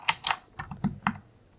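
Keycaps click and snap onto a Razer keyboard in a handful of sharp plastic taps, two louder ones first and then several softer presses, close and quiet with no talking.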